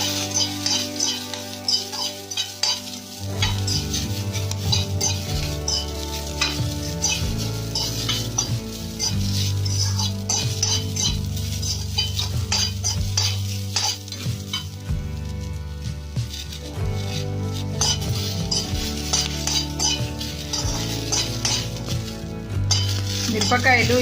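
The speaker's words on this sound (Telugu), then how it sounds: "వేగే వరకు ఇలా కలుపుతూనే ఉండాలి." Red chillies frying in a pan for tamarind chutney, a continuous sizzle with repeated scraping and clinking of a spoon stirring against the pan, close and steady throughout.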